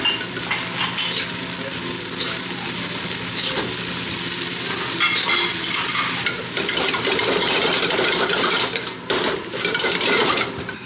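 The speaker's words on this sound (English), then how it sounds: "That's what this metal spatula is great for, scraping the bottom." A metal spatula scrapes and tosses kimchi fried rice in an overfilled wok, the grains sizzling steadily while the blade rasps and clinks against the metal bottom in quick, irregular strokes, close and loud with no talking.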